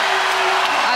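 Cheering crowd at a college volleyball match in a packed arena, a brief sustained roar filling the space with no distinct voices standing out.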